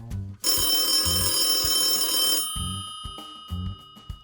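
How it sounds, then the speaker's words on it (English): An old telephone bell rings loudly for about two seconds, then fades into a lingering tone as other rings sound faintly in the background. "I stepped into the office where the large number of phones kept ringing."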